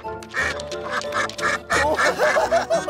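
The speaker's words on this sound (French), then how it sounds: "Oh, regarde le canard." A duck quacks repeatedly in loud, nasal bursts, close by, with overlapping calls and a busy background.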